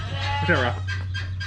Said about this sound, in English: Chickens! Baby chickens! One of our chickens hatched the babies.